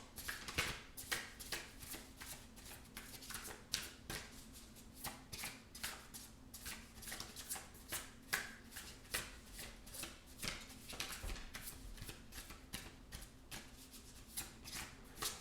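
Oracle cards are shuffled steadily and continuously by hand, a rapid, soft riffling and slapping that is close and quiet with no talking.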